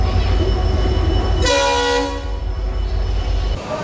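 A train stands at a busy railway platform as a loud, sustained horn blasts for about half a second over the rumble of the station, followed by continuing engine and wheel noise.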